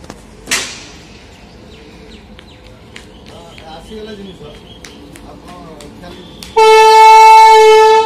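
Balangir–Bhubaneswar Intercity Express at a railway station, with a distant thump and faint station bustle and birds, then a loud sustained train horn blast for the final seconds.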